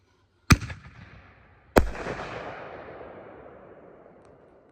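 Two sharp, loud artillery shell fireworks go off about a second apart. Each blast is followed by a long, fading crackle and rumble, with no talk.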